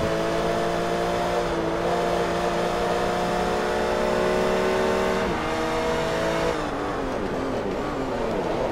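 A race car in Forza Motorsport 3 holds a steady, high engine drone on a fictional track, pitch climbing slightly through a gear and then shifting down near the end, loud and continuous with no voices.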